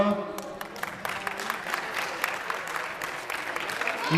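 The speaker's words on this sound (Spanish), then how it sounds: "Un aplauso." Applause from spectators for the winners of a summer futsal trophy in Cuacos de Yuste, Cáceres: steady, moderately loud clapping from a modest outdoor crowd throughout.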